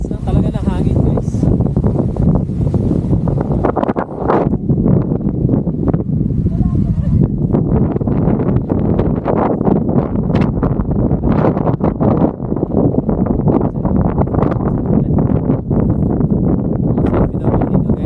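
Heavy wind rushes and buffets against the microphone atop Mt. Olis in Atok, Benguet, a loud, continuous roar with gusty surges lasting the whole stretch.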